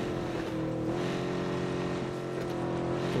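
A car engine drones steadily in the video game PUBG, a continuous close, loud hum with a slight pitch shift as the vehicle is driven.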